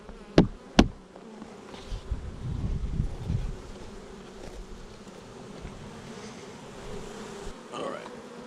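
Honey bees buzz around a newly installed hive, a close, wavering drone of many insects with a couple of sharp knocks at the start and a louder swell of buzzing midway.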